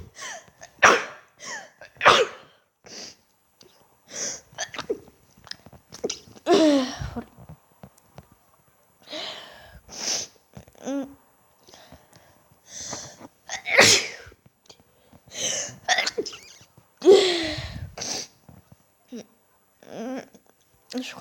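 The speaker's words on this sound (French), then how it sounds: "Je crois que j'ai fini d'éternuer" A person sneezes repeatedly, with sharp loud bursts spaced a few seconds apart and scattered breathy sniffs and gasps between them.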